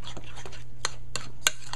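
Eggplant, split peas and seasoning get stirred in a pot, with faint scraping under a low hum and a few sharp clicks of a utensil against the pan.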